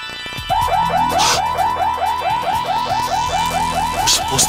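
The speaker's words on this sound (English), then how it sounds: "You're supposed to cut the alarm." An alarm wails loudly in a repeating warbling pattern of quick rising tones, steady and close for several seconds, with a couple of bright clanks breaking in.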